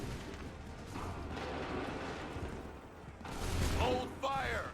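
A musket volley from soldiers in Assassin's Creed 3 rumbles as a broad, booming roar of massed gunfire, with shouted voices and commands layered over it near the end.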